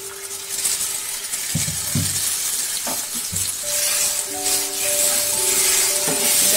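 Turmeric and spices frying over a high flame in a pan, with a steady hiss and sizzle, some soft clinks and stirring knocks, and a faint tonal ring later on. No one speaks.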